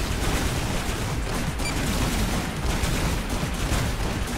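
Gunfire from a weapon in the arena shooter Toxikk, a dense, unbroken barrage of loud shots and booms that fills the whole stretch without pause.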